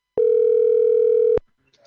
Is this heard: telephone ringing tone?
yes